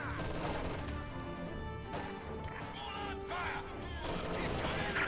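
LMG machine gun fire in Company of Heroes 2 battle, scattered rapid bursts and impacts at moderate distance, mixed with other battlefield effects and a voice talking over it.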